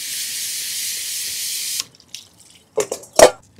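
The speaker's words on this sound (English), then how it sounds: "I wanna rinse it" A plant pot is rinsed under a running tap, giving a steady hissing stream that stops abruptly, followed by a few close splashes and knocks of water and pot.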